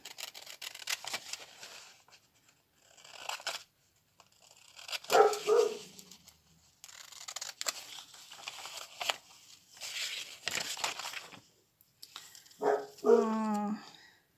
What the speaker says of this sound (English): there you can hear Frida, our dog